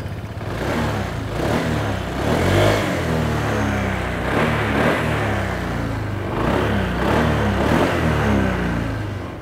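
A Honda Stylo 160 scooter engine runs close by, idling with a buzzing rumble and revving up several times in rising and falling surges.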